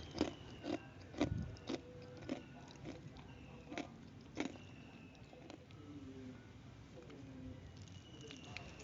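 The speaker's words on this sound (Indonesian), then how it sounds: "Untuk hasil ayam gorengnya, ini benar-benar kriuk" Someone bites into crispy, crunchy Korean-style fried chicken, with several sharp crackling crunches near the start, then quieter, scattered chewing crackles over a low room hiss, no voices.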